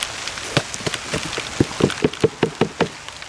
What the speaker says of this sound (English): the rain started coming down for real